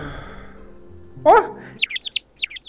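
Baby birds hatching in the Creature Seekers video game: a brief voiced burst, then a run of quick high chirps and tweets in short bursts, fairly close and clear.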